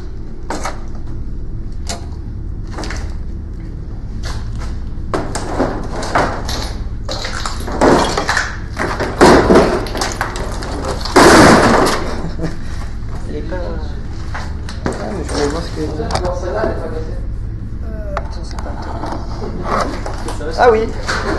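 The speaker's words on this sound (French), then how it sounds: "Il y a des portes qui claquent." Inside an abandoned hotel, doors bang and rattle in the wind, with several sharp knocks and clatters spread through the stretch while people talk close by in French.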